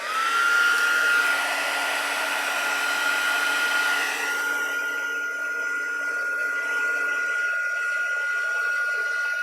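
Heat tool blowing hot air steadily over an embossed file folder, a constant close whirring hiss with a high whine that eases after a few seconds and keeps running alone.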